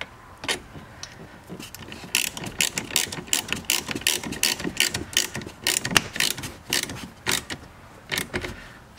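A hand ratchet tightens the battery terminal post on a C7 Corvette, rapid clicking pawl bursts in uneven strokes over several seconds, close and fairly loud with no voices.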